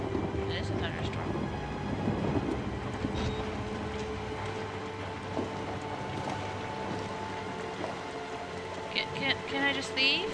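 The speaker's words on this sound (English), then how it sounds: "It is a thunderstorm." Steady rain and storm ambience during a thunderstorm in the horror game Outlast, a continuous wash with low rumbling underneath and a few sharper spatters near the end, heard alone without talk.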